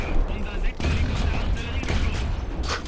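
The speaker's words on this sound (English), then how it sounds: "ridiculous rate of fire of this 57mm gun" Rapid 57mm cannon fire from an armored vehicle in the War Thunder battle game, a dense, fast stream of booming shots rolling on without a break, loud and close.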